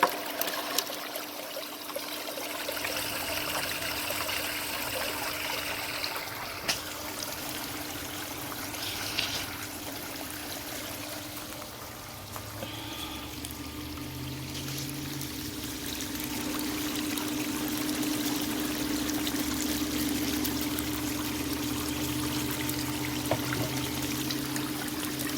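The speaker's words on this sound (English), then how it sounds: "Do my stream sluice with the power head." Water rushes steadily through a stream sluice fed by a power head while gold prospecting in Montana, a continuous moderate wash and trickle with a low hum beneath, running without pause and with no voices.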